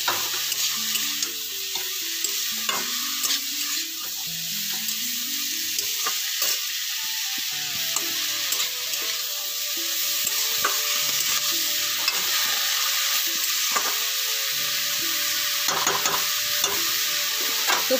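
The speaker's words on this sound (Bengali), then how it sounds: "এবার সবজিটাকে আমি একটু ভাজতে থাকবো, আস্তে আস্তে একটু নরম হয়ে যাবে" Vegetables fry in a pan with a constant close sizzle while a utensil scrapes and knocks against the pan in irregular stirring strokes throughout.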